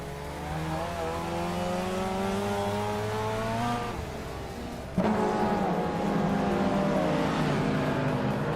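A 1988 Opel Ascona CGT race car drives on a circuit, its engine a steady, loud drone with rising and falling pitch, briefly dipping then surging back as gears change and other cars run nearby.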